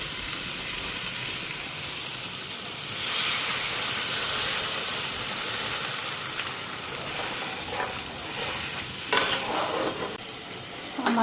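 Masala curry sizzles and hisses steadily in a hot pan as water goes in, a dense broadband frying roar that swells around the pour and crackles with a few sharper bursts near the end.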